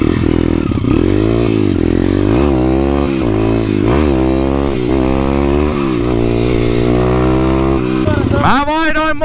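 A YCF stunt pit bike engine revs hard and close, its pitch climbing and dropping again and again as the clutch is popped for a wheelie, ending in a sharp rising rev burst.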